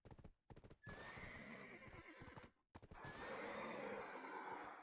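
A horse in a video game neighs loudly and clip-clops, with a whinny, a short break, then another whinny over hoofbeats, close and prominent with no talk.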